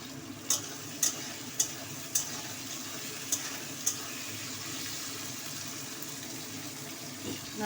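Onions, chillies and tomatoes are stirred in a frying pan, with a soft, steady sizzle underneath. Half a dozen sharp metallic taps of the spatula against the pan sound close by in the first four seconds, and no one speaks.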